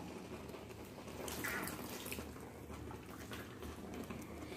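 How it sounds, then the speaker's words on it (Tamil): Hot water is poured into ragi flour in a home kitchen, a soft steady splashing stream that is fairly quiet and close, with no talking. "3 கப்பு சுடு தண்ணி ஊற்றிக்கலாம்."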